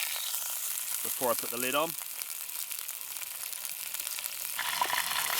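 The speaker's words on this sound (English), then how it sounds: "I'm just browning the turkey off in the Dutch oven" Turkey browns in a Dutch oven over a campfire with a steady hiss of sizzling fat throughout, while someone speaks briefly over it.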